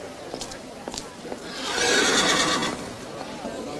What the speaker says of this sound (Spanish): tenemos un caballo en venta